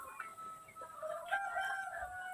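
Chickens cluck and a rooster crows at a village coop, the calls overlapping in a close, continuous stretch of throaty clucks and a drawn-out crow, with no talk.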